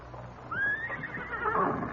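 A horse whinnies in a rising, drawn-out neigh with faint hoof clip-clop beneath, heard alone at moderate distance with no talk.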